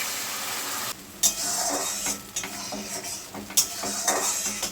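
Milk-cream paste stirred into simmering masala for vegetarian chhana korma: a ladle scrapes and clinks against the pan over a steady bubbling sizzle, with a few sharper knocks of the utensil and no talking.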